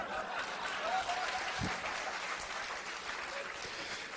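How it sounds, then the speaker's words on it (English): A crowd of doctors and professors applauds together in a steady, fairly quiet wash of clapping that lasts throughout, with a faint voice briefly audible beneath it. "And they are clapping for me."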